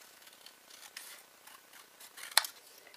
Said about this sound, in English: these are our super duper scissors